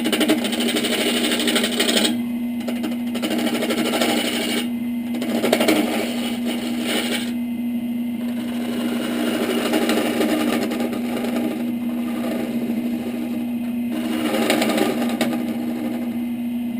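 Wood lathe turning a split birch log while a tool flattens its end, a steady motor hum with a constant drone under repeated bursts of cutting noise.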